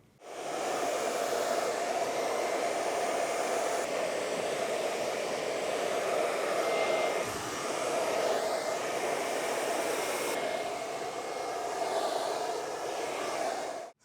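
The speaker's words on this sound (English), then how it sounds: "just a high heat is going to be great. Going to work into the roots, get some volume" A hair dryer runs on high heat, rough drying long hair at the roots for volume. It gives a loud, steady close-up roar with no pauses for the whole stretch, and its airflow shifts only slightly as it moves.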